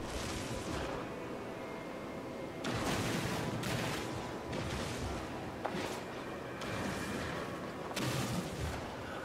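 A multi-tool in No Man's Sky blasts at a patch of dirt, a rough, roaring burst of noise that comes in several separate bursts with brief gaps, loud and up close with no talking.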